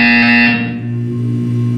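A harsh, loud electronic buzzer in Portal 2, one sustained blare that cuts off after about half a second, leaving a lower droning hum.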